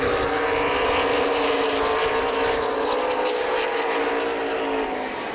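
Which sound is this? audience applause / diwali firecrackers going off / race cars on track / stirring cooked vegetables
race cars on track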